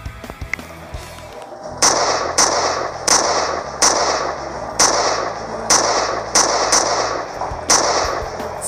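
Rapid gunfire with bullet shell casing effects cracks out as a steady series of loud, evenly spaced shots, roughly one every half second, each trailed by a bright metallic ring of falling brass.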